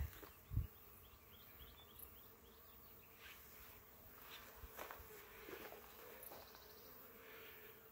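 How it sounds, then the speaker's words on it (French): Bees buzz steadily across a lavender field, foraging, a soft layered hum of many insects near and far, with a faint thump early on. "Écoutez bien les abeilles dans ce champ de lavande."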